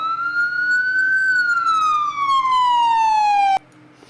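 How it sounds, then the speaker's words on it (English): A police car siren in the game Police 1013 wails loudly and close, sweeping up and then gliding steadily down in pitch before cutting off abruptly near the end, leaving a low engine idle. "Let's hit the siren."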